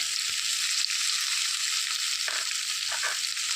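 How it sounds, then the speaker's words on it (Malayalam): Drumsticks with onion and green chili stir-fry in a pan for a Kerala upperi, producing a loud, continuous sizzle with a few soft stirring scrapes. "ഇതെല്ലാം കൂടെ ഒന്ന് ഇളക്കി യോജിപ്പിക്കുക"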